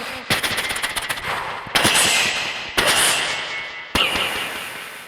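A voice imitates gunfire, bomb blasts and a passing fighter plane on a live stage, with a rapid rattling burst followed by three loud explosive blasts, each decaying into a roar.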